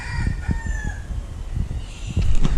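Roosters perched up in a tree in Amsterdam crow loudly and repeatedly, with overlapping calls, and a few short clucks are mixed in.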